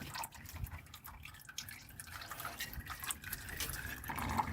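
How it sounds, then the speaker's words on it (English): Oil trickling from the drain plug of a Nissan Micra into a catch pan, a quiet continuous dribble with small irregular drips, close and faint. "that will catch any oil that comes out"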